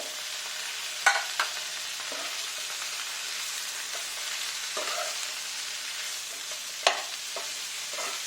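Pumpkin greens and tomato hiss softly in a frying pan as they are stirred, with a low, even sizzle and a few scattered clinks of the spoon against the pan.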